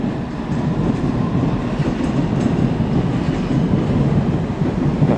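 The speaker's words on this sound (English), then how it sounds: "It's a District Line train to Upminster." District Line train heading for Upminster rolls past at Barking, producing a loud, continuous rail rumble with light clickety-clack of wheels over joints, unbroken and without voices.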